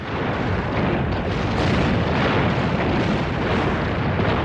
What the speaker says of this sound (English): In minutes, 13 American and 14 Japanese ships were all firing, almost at random.